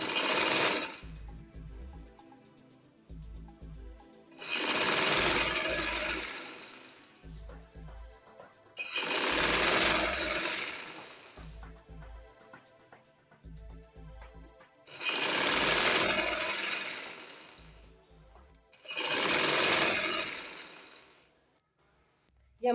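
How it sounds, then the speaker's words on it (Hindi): A sewing machine stitches a half-inch seam on an angrakha shirt, running in several loud bursts of a few seconds each with short pauses between, close by and with no talk over it. "हम ½ इंच पे सिलाई लगा रहे हैं।"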